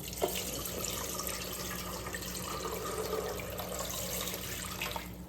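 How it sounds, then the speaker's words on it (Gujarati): Water runs in a steady stream into a metal pressure cooker, splashing and gurgling continuously for a few seconds, with no talking. "પહેલા આપણે એમાં પાણી એડ કરી લઈશું"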